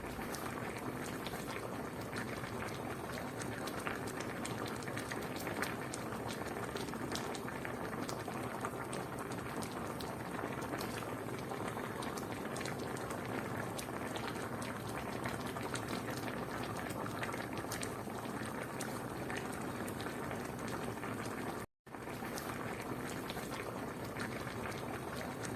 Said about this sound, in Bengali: ঝোলটা 2 থেকে 3 মিনিট ফোটানো হয়ে গেলে রেডি আমাদের পনিরের রেসিপি।